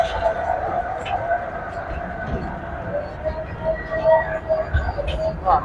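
A large train ride at a water park rumbles along with steady tonal hum and squeal, sustained and fairly close, with crowd noise around it.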